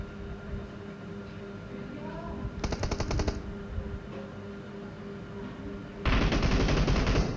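PUBG Mobile gunfire crackles in two rapid automatic bursts, a short rattling volley followed later by a louder, longer stream of shots, over quiet game ambience.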